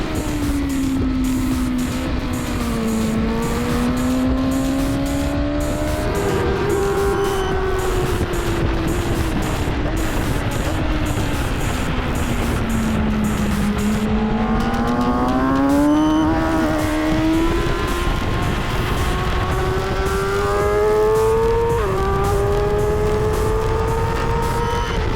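A 2023 BMW S 1000 RR superbike on brand-new slicks does warm-up laps at the Almeria race circuit, its engine droning loud and close throughout as the revs rise and fall with repeated gear shifts.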